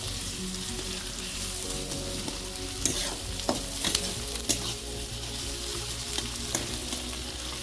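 Mixed freshwater fish frying in oil over a clay stove, a constant close sizzle broken by a few light scraping stirs, with no talking.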